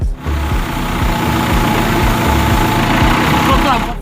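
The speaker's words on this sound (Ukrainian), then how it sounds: "Потім дали команду маніпулятор. Приїхав маніпулятор, максимально швидкий і завантажив." Diesel engine of a crane manipulator truck loading a stone statue, a loud, close, steady idling rumble with a knocking pulse throughout and no talk.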